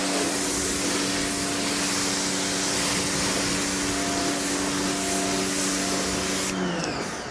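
A pressure washer sprays down the back and side of a car during a pre-soak wash, giving a loud, steady hiss with a motor hum beneath it that holds throughout and drops off abruptly near the end.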